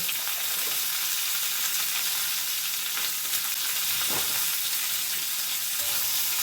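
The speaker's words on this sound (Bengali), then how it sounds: "এটা ভালো করে একটু কষিয়ে নেবো টমেটোটা যতক্ষণ না গলছে জল দেবো না" Chopped tomato, green chili and turmeric sautéing in a pan, giving a continuous loud sizzle with a few clinks of stirring, no voices.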